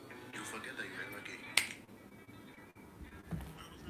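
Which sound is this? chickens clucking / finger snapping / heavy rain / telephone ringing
finger snapping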